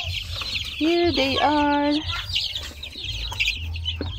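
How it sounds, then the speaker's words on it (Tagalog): Chickens on a farm, including Rhode Island Reds and native birds, cluck and call close by, with one loud drawn-out squawk mid-clip over outdoor ambience and brief speech. "And let's go to our chicks."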